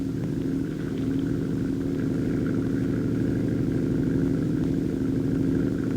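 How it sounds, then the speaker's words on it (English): Small 7-horsepower Nelson engine powering a flying scooter, an air-cushion vehicle lifted by a fan system, drones at a steady close pitch, humming continuously without pauses. "the left handlebar has a throttle control for a small 7-horsepower Nelson engine"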